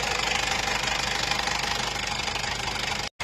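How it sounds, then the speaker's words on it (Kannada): A newly fitted water pump engine runs steadily after starting, a close, loud mid-pitched chugging with a fast knocking rhythm, briefly cutting out near the end. "ಕಂಪ್ಲೀಟ್ ಆಗಿದೆ, ಗಾಡಿ ಸ್ಟಾರ್ಟ್ ಮಾಡಿದ್ದೇವೆ."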